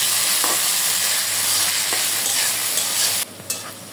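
Onions and green chillies frying in hot oil, a loud, close, steady sizzle with faint stirring scrapes that cuts off abruptly near the end, leaving only a brief clink. No one talks.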